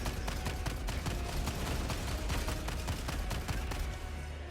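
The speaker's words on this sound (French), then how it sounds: "sur Helldiver 2 les pompes tirent ultra loin" Rapid shotgun gunfire in the Helldivers 2 video game, a dense continuous barrage of sharp repeated blasts with explosions, loud and steady throughout.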